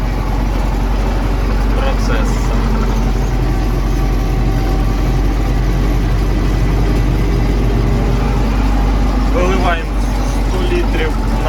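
Tractor engine running in a sunflower field during fertilizing, a loud steady low rumble throughout, with faint voices and light clatter over it.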